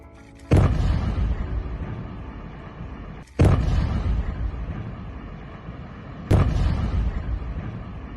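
Three deep, loud blasts from a building demolition, spaced about three seconds apart, each an abrupt broadband boom with a long rumbling decay; the explosive charges sit in water-filled IBC totes to hold down dust.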